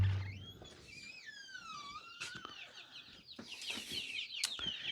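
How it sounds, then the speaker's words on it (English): Young chickens about four weeks old in a brooder box on a small farm, peeping and clucking close by in overlapping rising and falling chirps, busy and continuous. "We can go and grab the chickens now."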